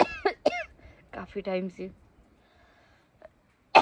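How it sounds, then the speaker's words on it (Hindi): A woman coughs and clears her throat close by, with sharp bursts at the start and again at the end, while she speaks briefly in Hindi in between in an otherwise quiet room. "तो मेरे को खांसी लगी हुई है"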